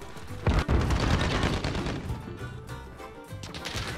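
Gunshots in Call of Duty Modern Warfare: a sharp pair of close bangs, followed by a rumbling, crackling burst of further fire that gradually fades in a loud, busy mix.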